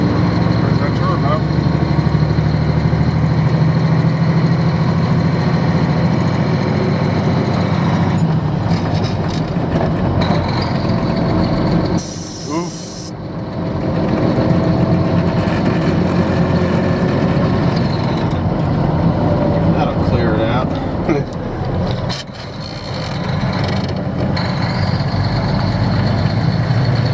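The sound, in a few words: engine running and idling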